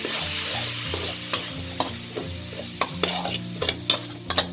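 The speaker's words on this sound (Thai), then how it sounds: "เราคั่วได้เลยค่ะ" Minced pork chili paste being stir-fried in a pan gives a steady sizzle beneath repeated scraping stirs. Spatula strokes come at irregular intervals, growing more frequent toward the end. Close and fairly loud, with no talk.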